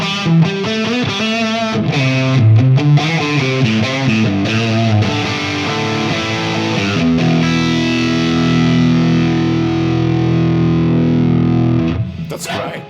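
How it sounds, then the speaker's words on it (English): Electric guitar played through a ToneX One pedal with a distorted tone and roomy reverb: a run of picked notes and chords, then a sustained chord ringing out and decaying. "If you want some more of that reverb, like a roomy kind of sound."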